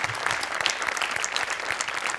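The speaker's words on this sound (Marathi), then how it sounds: "स्पेशल टाळ्या व्हायला पाहिजे" Studio audience at a Marathi comedy show clapping together, a dense even burst of applause lasting a couple of seconds, moderately loud.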